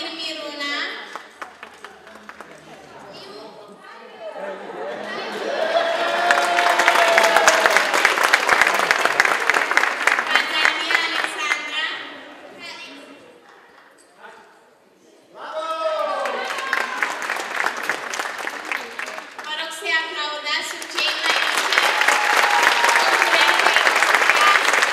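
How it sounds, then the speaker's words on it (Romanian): A generous crowd applauds child dancers at a spring dance performance. The loud clapping comes in two long waves separated by a quieter lull, and the audience cheers and voices rise with it. "Participanții au fost recompensați în primul rând cu aplauze de publicul generos"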